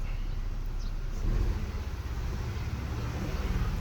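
A Nissan Almera engine runs close by with a steady low rumble that swells briefly as the throttle is blipped, then settles back.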